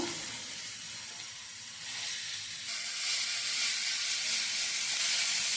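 Carrot fry with tempering being stirred in a small pan, a steady bright sizzle and hiss of frying that swells louder midway, with faint scraping of the stirring and no voices.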